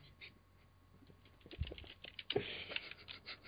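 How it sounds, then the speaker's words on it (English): Hands mashed down onto a computer keyboard produce a scatter of soft, irregular key clatter, faint and distant at first and then a denser burst of presses toward the end. "take your hands, place them above your keyboard, and just mash them downward"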